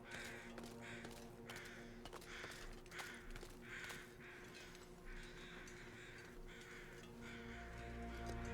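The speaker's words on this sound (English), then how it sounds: "crow sound effect that follows the bear, and you can hear it before you can hear the bear" Crow caws repeat at a steady rhythm over a low wintry ambient hum in The Long Dark survival game, the calls moderately distant and distinct, with no talking.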